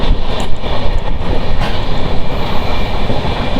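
A moving passenger train on the Tikiri (Rayagada) to Kolkata route winds through hill country, heard from on board as a loud, constant rumbling rattle of wheels and carriages with no talk.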